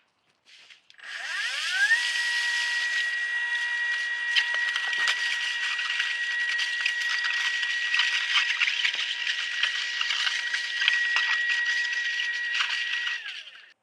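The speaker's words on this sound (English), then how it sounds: "Now let's check out these trowels in action. I'll go over to the 24-inch walk-behind edging trowel." Milwaukee MX Fuel 24-inch walk-behind edging trowel running steadily on concrete, a continuous loud motor whine with a rising start-up pitch and a sustained tonal hum throughout, with no talking.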